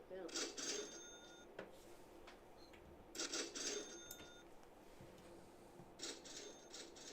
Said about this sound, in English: Turn the cash register down just a little bit.